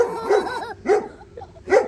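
A dog barks three times up close, each bark a loud separate burst with short pauses between, and no voices over it.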